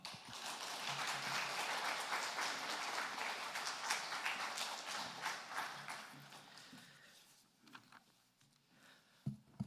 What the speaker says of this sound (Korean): 나오실 때 함께 박수로 축복하겠습니다.